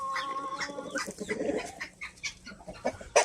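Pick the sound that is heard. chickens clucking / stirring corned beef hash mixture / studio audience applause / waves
chickens clucking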